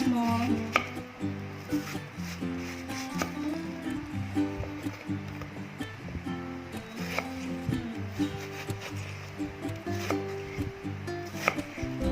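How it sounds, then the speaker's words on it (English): A knife cuts homemade jelly into small pieces on a board, giving a steady series of soft, close chopping taps in an uneven rhythm with faint background hum and no talking. "Okay, we cut to slice, small."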